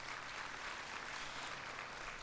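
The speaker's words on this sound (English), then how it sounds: "Applause, please." Audience applause at a talk at Shanti Sarovar, a steady, even wash of clapping from a distance, fairly faint and continuous throughout with no voices.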